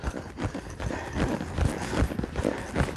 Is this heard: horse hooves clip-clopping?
yes